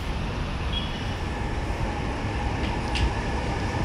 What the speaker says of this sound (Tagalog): Yun, may dumaan na MRT.